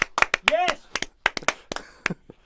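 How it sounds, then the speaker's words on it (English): A small audience claps for veterans at a Veterans Day gathering, scattered separate hand claps ringing out near and fairly quiet, with a voice speaking among them. "We're going to clap for you."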